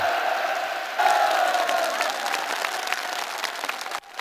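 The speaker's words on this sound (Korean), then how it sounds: "관람자들은 열렬한 박수갈채를 보냈습니다" Spectators at a sports match applaud enthusiastically, dense sustained clapping from a large crowd with some cheering, heard at moderate distance.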